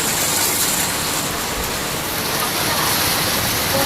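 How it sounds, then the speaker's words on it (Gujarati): Heavy rain pours down steadily in a thick, continuous roar that fills the whole clip, loud and close with no break. "ખાલી ધમધમાર વરસાદ ચાલુ"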